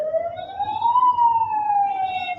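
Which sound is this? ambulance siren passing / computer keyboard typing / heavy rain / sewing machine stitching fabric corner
ambulance siren passing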